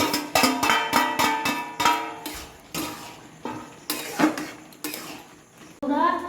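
Curry with egg being stirred in a pan, a spoon knocking and scraping against metal in quick repeated clinks, close and fairly loud, slowing into scattered taps toward the end.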